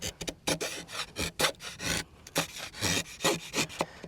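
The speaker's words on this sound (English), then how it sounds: "Just shave off the interior like this until you get to that point." Rhythmic rasping scrapes as a blade shaves the inner edge of a bamboo board for a fire saw, close and repeated strokes about twice per second.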